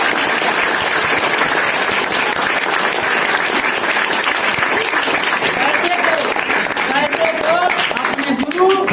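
Loud, sustained applause from a school audience honoring teachers at a Teacher's Day speech event, dense clapping filling the hall with crowd noise throughout.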